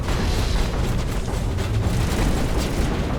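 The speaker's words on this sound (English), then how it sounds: "Grenade." A grenade blast in the Mass Effect video game, a dense, loud rumbling roar that fills the whole moment and stays heavy and sustained without a break.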